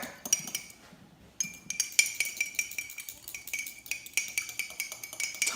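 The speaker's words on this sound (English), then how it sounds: "So then I take a fork, or you can use a whisk if you're more sophisticated and fancy." A fork whisks homemade salad dressing of apple cider vinegar in a bowl, giving quick repeated metallic clinks and taps against the dish in uneven bursts, close and fairly clear, with no talking.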